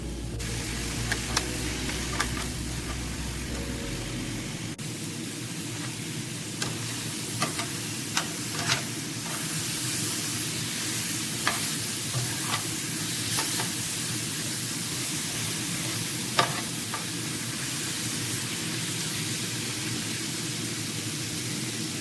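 Fish fries in a pan turned up high, giving a steady, dense sizzle and hiss throughout, with occasional small pops and crackles and a low rumble that fades out early on.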